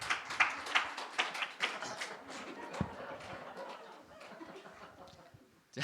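Scattered hand claps from a high school worship audience, a quick run of light claps at the start that thin out, sounding moderately near beneath a murmur of voices and chuckles.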